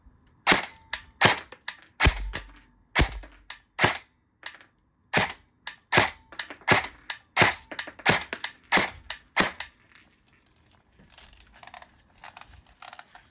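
Colt M4 CQB-R airsoft rifle fires about twenty sharp, close single shots at an uneven semi-auto pace through a chronograph, followed by a few seconds of faint handling noise.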